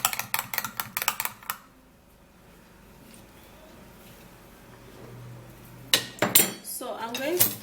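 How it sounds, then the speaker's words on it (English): A manual mixer whisking hair treatment ingredients in a bowl, with rapid rattling clinks at the start, a quieter stretch, then another burst of busy clattering near the end. "get my manual mixer and mix this really well."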